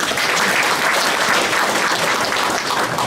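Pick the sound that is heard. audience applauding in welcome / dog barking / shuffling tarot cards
audience applauding in welcome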